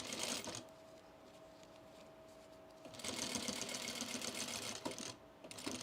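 A sewing machine stitches cargo pants, a brief run, a quieter pause, then a longer steady whirring pass up close, ending in a short final burst.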